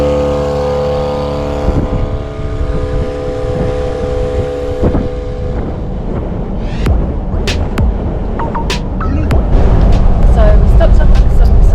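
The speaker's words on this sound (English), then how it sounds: "now I'm going to turn the compressor on and it's going to be really loud" A loud, steady mechanical drone from a car air compressor running outdoors, joined by clanks and rattles, with wind buffeting the microphone.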